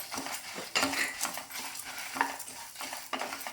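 Sesame seeds dry roasting in a pan for idli podi, stirred with a utensil that scrapes and rattles in irregular strokes over a light sizzle, close and moderately loud with no voices.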